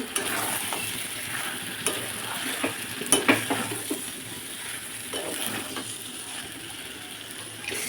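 Fried jackfruit and potato stirred into oily spice masala in a pan, with constant sizzling and a cluster of metallic spatula scrapes and clinks, steady and close.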